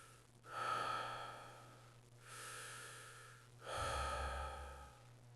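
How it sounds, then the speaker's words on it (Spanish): Slow, deep breathing in a horror-story setting: three long airy breaths, each swelling and fading, close and quiet, with a low steady hum underneath. "La respiración, lenta, profunda, venía de abajo, del piso."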